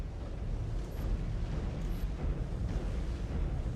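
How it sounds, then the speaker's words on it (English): Particle cannon fire and explosions in the MechWarrior 5: Clans video game make a sustained low rumbling roar with a faint crackle throughout, and no one speaks. "Gotta love particle cannons."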